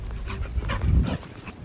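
A dog panting outdoors on a rainy morning in a park, close and fairly loud, with quick breathy puffs over a steady hiss of rain.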